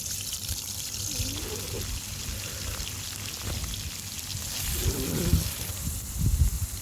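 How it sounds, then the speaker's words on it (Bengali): A spice paste hits hot oil in a karahi while duck curry is being made, giving a steady, hissing sizzle throughout with a few brief soft vocal sounds. "এরপরে বাটা মশলাটা আমি দিয়ে দিলাম।"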